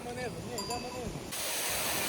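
A mountain waterfall near Zugspitze, Germany, fills the air with a steady, loud, broadband rush, preceded by a brief voice.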